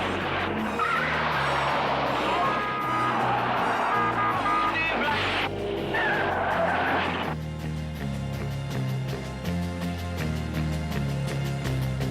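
Cars racing on ice in the Alpine winter at Lauterbrunnen during 1969 filming of a Ford promo. Engines roar continuously with skidding and tire noise throughout, loud and near. Dramatic music runs underneath.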